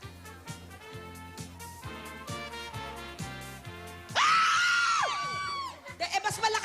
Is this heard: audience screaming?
yes